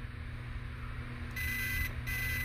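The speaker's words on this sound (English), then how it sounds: "That's why it's only beeping once." Electronic programming beeps from a Hobbywing Max6 RC car ESC, a single high tone sounding once over a low steady hum, brief and moderately loud.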